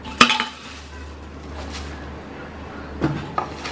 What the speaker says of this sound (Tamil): சேர்த்து லேசாக வறுத்துக்கோங்க.